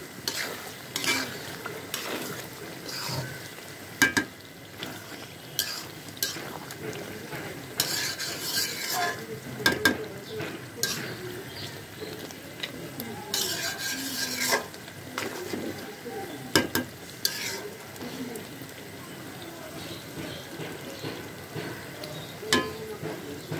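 Meat being stir-fried bhuna-style with tomatoes in a pan, with steady scraping and stirring over a continuous low sizzle and occasional sharp clinks of the utensil against the pan.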